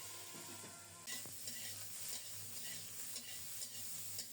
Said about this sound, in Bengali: ওই তেলেই ফুলকপিগুলো অল্প তেলে লাল লাল করে ভেজে নেব।